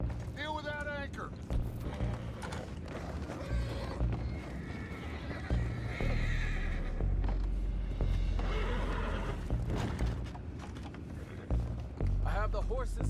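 Horses whinnying loudly in Red Dead Redemption 2, with two distinct neighs near the start and end over hoof clops, rumbling background and people talking throughout.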